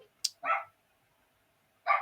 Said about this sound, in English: Apologies if you can hear a dog barking outside there.